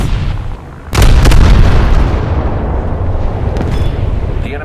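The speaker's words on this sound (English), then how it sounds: "The enemy ship sank." Naval battle explosions in a video game as an enemy ship sinks: a loud sudden boom after a quieter stretch, then a long rolling rumble with a few smaller bursts trailing off.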